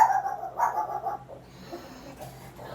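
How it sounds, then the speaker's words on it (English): A dog whimpers in a few short, faint whining bursts close by, fading into a low background hum with no speech over it. "It sounds like a dog."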